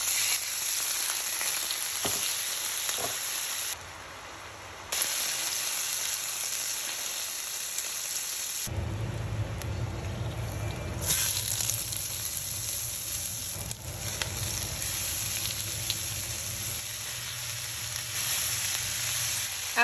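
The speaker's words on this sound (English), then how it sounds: "After it's been sauteing for some time" Bell peppers, onions and 8 ounces of mushrooms sauté in a pan with a steady, moderately loud hiss and sizzle that shifts slightly as the vegetables are moved, with no talking.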